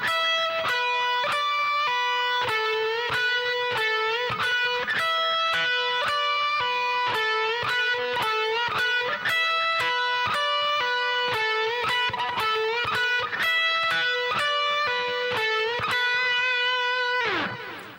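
Electric guitar plays an eight-note minor pentatonic phrase in two groups of four, repeated several times with crisp picked notes at a steady moderate pace, close and prominent, closing on a ringing sustained note.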